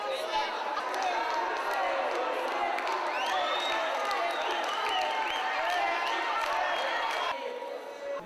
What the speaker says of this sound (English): And when they get blankets, there is a big cheer.